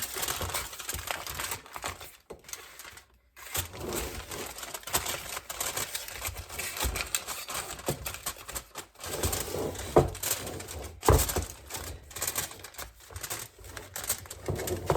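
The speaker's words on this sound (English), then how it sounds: "a piece of foil over that, and I want to seal it there on the edge as much as possible" Aluminum foil crinkles and presses as it is sealed over the edge of a cheesecake pan, a run of close, dense rustling and crumpling with brief pauses, no talking.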